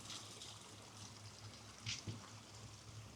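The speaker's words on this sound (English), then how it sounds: "It has two large diffuser discs, so the air is just going like crazy right now." Air pump driving two large diffuser discs to aerate a pond in autumn, a steady bubbling and trickling wash of water with a couple of brief louder splashes, faint and continuous.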